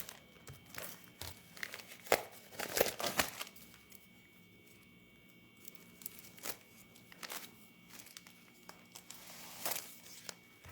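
Crinkling and tearing of a plastic subscription flower package as it is opened, with bursts of crackly rustling and a few sharper rips close by, then quieter handling between.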